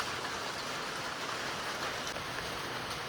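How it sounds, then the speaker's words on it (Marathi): Steady rain pours outdoors as the first rain of the season arrives after a hot April day, forming a dense, even hiss that holds at a constant level throughout with no voices. "पहिला पाऊस असं."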